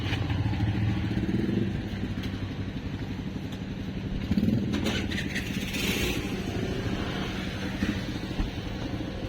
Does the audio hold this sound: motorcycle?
yes